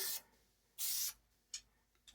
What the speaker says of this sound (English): So I'm just trying to get like a side spray here, like this, just across there.